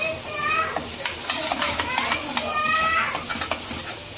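Ground masala paste fries in hot oil in a pan for a dhaba-style egg masala, giving a steady close sizzle with frequent metallic scrapes and clinks of a spoon stirring against the pan.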